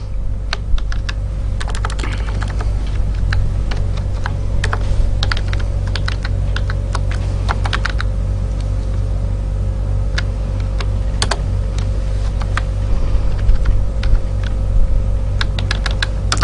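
Code is typed steadily on a computer keyboard, a long run of close, crisp key clicks in irregular bursts over a constant low hum, with no talking.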